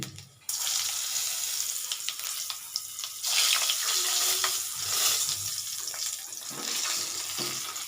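Whole cinnamon and cardamom hit hot oil in a pan. A crackling sizzle starts abruptly, with stirring scrapes and some watery hiss through the rest.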